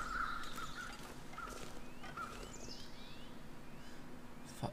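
Crows cawing in the wilderness survival game The Long Dark, a few short hoarse calls spread across several seconds at middle distance over a steady low ambient hum, with no talking.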